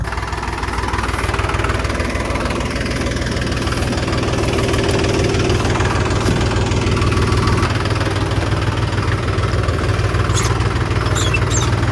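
A new Mahindra 275 DI XP Plus tractor pulls a 7-tine cultivator under full load in a field, its diesel engine a loud, close, steady rumbling drone that stays unbroken throughout, with no talking.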